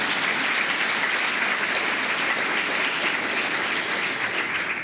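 An audience at a teachers' appreciation event in Tartu applauds with steady, dense clapping that stays loud and even from start to finish.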